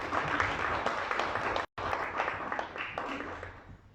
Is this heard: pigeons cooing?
no